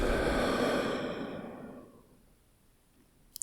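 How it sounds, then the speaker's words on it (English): A slow, close breath out during a guided relaxation breathing exercise. It starts as a soft, breathy rush and fades steadily over about two seconds into near silence. "Okay, again, in. Hold. And then out."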